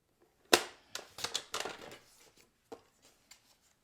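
A paper card strip is cut for a bookbinding card, opening with one sharp crisp snap followed by a quick burst of crunchy slicing, then a couple of faint taps.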